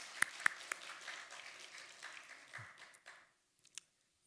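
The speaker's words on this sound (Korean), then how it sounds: "우리 선교사님 격려의 박수 한번 드리면 좋겠습니다." A church congregation claps in encouragement for a missionary during a Sunday service, a moderate wash of applause with a few sharp near claps that fades out after about three seconds, followed by quiet.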